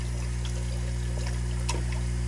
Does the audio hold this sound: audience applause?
no